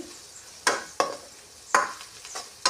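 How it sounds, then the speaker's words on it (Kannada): Asafoetida is stirred into sizzling tempering oil, with a soft continuous fry under four or five sharp scraping strokes of a spoon against the pan at irregular intervals, close and clear. "ಒಗ್ಗರ್ಣೆ ಒಳಗೆ ಹಿಂಗ ಹಾಕಿ ಎಲ್ಲ ಚೆನ್ನಾಗಿ ಮಿಕ್ಸ್ ಮಾಡಿಕೊಳ್ಳಿರಿ"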